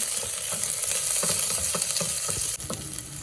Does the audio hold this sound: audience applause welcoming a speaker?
no